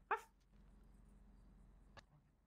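A dog in the video game GTA 5 roleplay gives one sharp close bark, then a quieter second bark about two seconds later over faint background hum.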